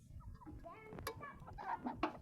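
Chicken clucking nearby in short, uneven bursts, with some rustling and background noise around it.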